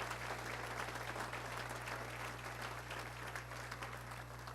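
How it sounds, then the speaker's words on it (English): Banquet audience at an alumni awards dinner applauding steadily for several seconds, a dense wash of many hands clapping at moderate distance over a constant low hum. "let's give a round of applause to Larry Manasmith"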